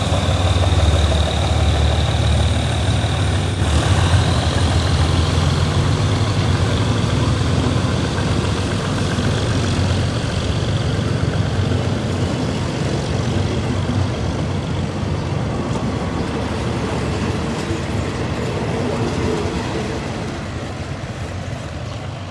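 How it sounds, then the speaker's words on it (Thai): A GE diesel locomotive, GEK 4026, hauls train 259 away from a station on the western line near Kanchanaburi, its heavy engine a steady low rumble and drone throughout, slowly fading slightly toward the end. "เคลื่อนขบวนออกจากสถานีท่าเรือน้อยแล้วนะครับ วันนี้ทำขบวนโดย OGEK"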